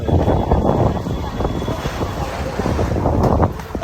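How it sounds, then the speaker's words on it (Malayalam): A strong dusty wind buffets the microphone near market stalls at the Hazratbal shrine in Kashmir, a loud continuous roar and rumble with voices faintly underneath. "നല്ല പൊടിക്കാറ്റ് നല്ല നടക്കുന്നുണ്ട്. ഭയങ്കര കാറ്റ് വെച്ചാൽ ഭയങ്കര കാറ്റാണ്"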